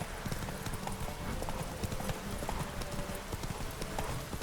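Horse hooves clip-clop in a rapid galloping rhythm in The Witcher 3, steady and close, with a brief whinny and faint background game ambience throughout.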